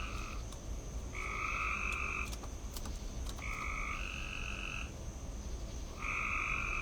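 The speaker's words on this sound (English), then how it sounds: "You hear the frogs?" Frogs croak outdoors in repeated overlapping bursts, each lasting about a second, steady and moderately loud over a constant background hiss.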